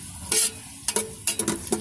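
Bell pepper is stirred and sautéed in a pan for caldereta, with short bursts of scraping and sizzling as the spoon moves, several quick stirring strokes over a quiet low background.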